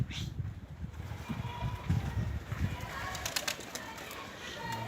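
Pigeons fly and coo around a coop, with soft low coos and wing flutters over a breezy outdoor background, faint and fairly distant.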